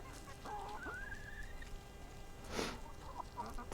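Fussy backyard hens cluck and squawk in short bursts close by, with one sharper honking call partway through, against a steady outdoor background.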